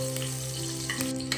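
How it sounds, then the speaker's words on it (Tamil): Bay leaf, cardamom and fennel seeds sauté in butter for rajma pulao, making a close, continuous sizzle with a few stirring scrapes over a faint steady hum. "பிரியாணி இலை சேர்த்து வதக்கி விட போகிறேன்"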